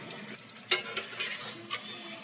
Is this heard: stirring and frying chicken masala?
yes